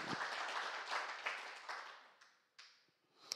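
Church congregation applause during a Sunday afternoon Korean worship service, fairly quiet and thinning out quickly into a few scattered claps.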